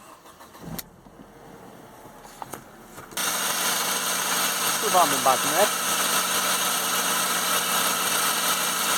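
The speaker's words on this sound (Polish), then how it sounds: "I uruchamiamy silnik." After a few quiet clicks and a brief spoken phrase, a Mercedes SLK engine cranks and catches, then settles into a steady, loud idle.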